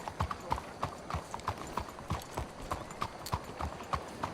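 A horse's hooves clip-clop in a steady, even walking rhythm in Red Dead Redemption 2, each hoofbeat crisp and close over quiet outdoor ambience.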